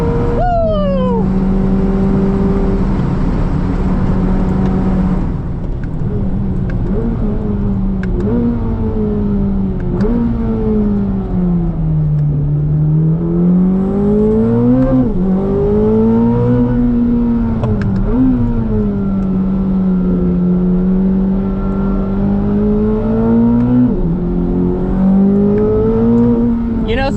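A 2025 Corvette ZR1 driven hard on a race track, its engine a loud, continuous roar heard from the cabin, with revs climbing and dropping repeatedly through gear changes and corners.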